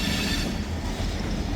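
A long freight train rolls past on the rails, a steady close rumble of cars with wheel noise and faint squeal, continuous throughout with no voices.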